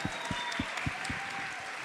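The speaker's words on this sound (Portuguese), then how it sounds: "Palmas, palmas." Scattered hand claps from a small group of people in a casual Brazilian celebrity chat setting, a handful of sharp, uneven claps spread across a couple of seconds, moderately close and fairly quiet.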